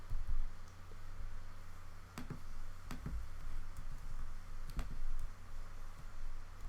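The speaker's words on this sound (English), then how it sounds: "Double click." A computer mouse clicks sharply while a social media graphic is edited in design software, with several short pairs of close, dry clicks spaced a second or two apart over a low steady background hum.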